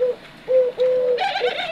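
Close, clear cooing of turtle doves in a breeding aviary: a few soft, sustained tonal coos in a short series, heard alone with no talking.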